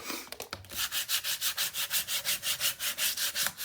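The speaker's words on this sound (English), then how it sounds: "Burnish, get all the airs out." Paper being burnished down on a Stamperia Vintage Library mini album, a rhythmic series of about a dozen even rubbing strokes, close and clear, with no voices.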